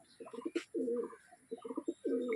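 A pigeon coos close by in two low, throaty rolling phrases, each a run of short pulses ending in a drawn-out burr, with a brief chirp between them.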